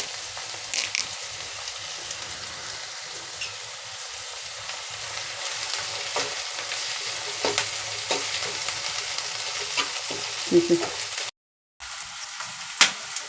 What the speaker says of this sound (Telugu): కచ్చా పచ్చాగా ఉల్లిపాయలు బాగా వేగనిద్దాము పచ్చివాసన పోయేదాకా